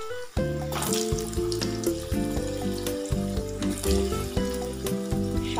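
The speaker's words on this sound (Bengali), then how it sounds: "আর দিয়ে দিলাম কেটে রাখা আলু।" Cut potatoes and whole white cumin seeds sizzle and fry in hot oil in a pan, a steady crackling hiss running under prominent background music.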